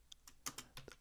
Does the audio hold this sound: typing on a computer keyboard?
yes